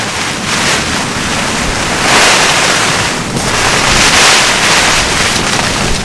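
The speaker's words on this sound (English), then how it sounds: "we've got a storm coming, unfortunately, and it's absolutely pouring down" Heavy storm rain pours down at a carp fishing lake, a loud, dense, constant hiss close to the microphone with gusts of wind swelling it twice.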